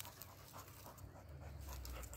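A dog pants close by in quick, rhythmic breaths that keep going without a break, fairly quiet and with no voices over it.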